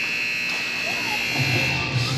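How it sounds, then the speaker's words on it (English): Arena buzzer sounds at an ice hockey game during the second period, a steady sustained electronic tone running the whole moment over crowd noise and a commentator's voice. "the puck's going to drop and it's going to buzz"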